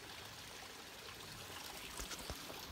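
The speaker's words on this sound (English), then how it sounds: "there's water coming out of it" Water spills out of a cave in the Lassen area, a faint, continuous trickling stream heard from a distance, with a few light splashes toward the end and no voices.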